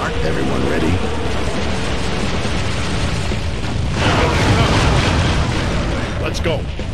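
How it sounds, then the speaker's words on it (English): Mortar barrage in the PC game Kingdom Under Fire: The Crusaders, a loud sustained roar of overlapping booms and blasts with battle noise throughout. "Mortars begin."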